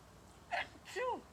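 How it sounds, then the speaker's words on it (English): A single sneeze during a spoken class, a soft intake followed by a short burst, faint and somewhat distant against quiet room tone. "that proper sneeze at the right time exactly"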